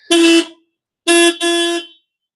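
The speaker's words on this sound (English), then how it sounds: "Nice and loud hooter or horn." Car horn on a project car after an electrical repair, sounded close and loud in three bursts: one short honk, a pause, then two quick honks back to back.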